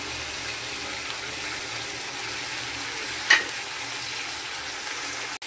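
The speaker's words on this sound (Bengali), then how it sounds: "এবার দিয়ে দিচ্ছি চিংড়িগুলো।" Shrimp frying in a ground spice paste, a continuous close sizzle with one brief clack near the end, no one talking.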